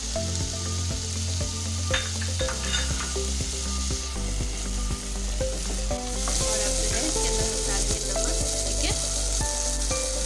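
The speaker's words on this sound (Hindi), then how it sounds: "और अब जो है मैं इसके अंदर डाल दूँगी अदरक" Ginger sizzles in hot oil in a pan for a fish curry, a steady close frying crackle with occasional scrapes and clinks of stirring, and no talking.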